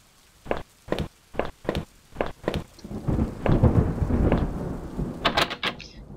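In the video game Home, a string of sharp, evenly spaced thuds like footsteps gives way to a heavy rumble of thunder over pouring rain. A few more sharp knocks follow, loud and close, with no talking.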